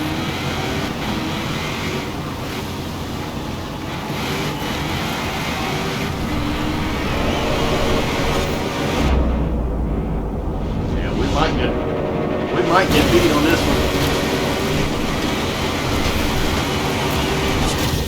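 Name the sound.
train running in video game Forza Horizon 4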